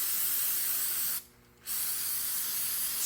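Brake cleaner sprayed onto a rubber intake boot from a Yamaha, a loud continuous aerosol hiss lasting about a second, then a brief pause before the spraying resumes steadily, close up with no talking.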